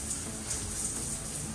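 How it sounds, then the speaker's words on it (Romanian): Shower column spraying water in rain mode, a soft, steady hiss of falling drops that continues evenly through the short stretch without speech. "Observați, are acea funcție de ploaie."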